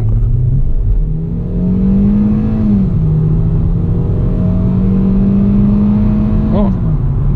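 Engine of a Hyundai Solaris revving hard around 4000 rpm while driving through a park, a steady loud drone with rising and falling pitch, under talk from inside the car.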